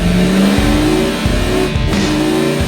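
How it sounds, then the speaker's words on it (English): A historic NASCAR stock car from the HSR NASCAR Classic Series revs loudly and close, its engine note climbing in repeated rising pulls with brief dips between shifts. "This is the car that I drive in the HSR NASCAR Classic Series"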